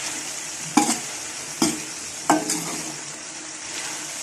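Potato, cauliflower and peas sabzi sizzling and frying in spices in a pan, with a steady hiss broken by three sharp stirring clanks of a spoon against the pan.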